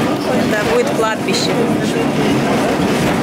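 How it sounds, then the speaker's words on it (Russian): Old Lisbon tram 28 riding the rails through the historic centre, a loud steady rumble with squeals and clatter, while someone talks over it. "на старом трамвайчике по историческому центру Лиссабона"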